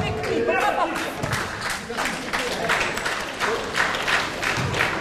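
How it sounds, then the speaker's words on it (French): Crowd at a wheelchair basketball game between Red Dragon's Saint-Avold and Gennevilliers applauds steadily at halftime, while a commentator talks over the clapping. "Oui, on peut les applaudir."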